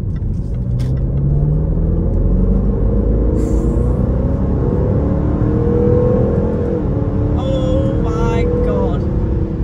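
A V8 Range Rover on a test drive gives a deep, steady engine rumble that climbs as it accelerates through the gears from inside the cabin, with a short excited exclamation over the top.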